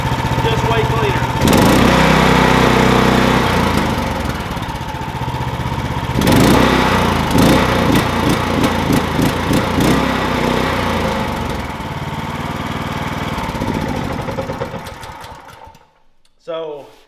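Duromax 439cc small engine running on propane, loud and close with a rapid, uneven putter that swells and surges, then dies out near the end.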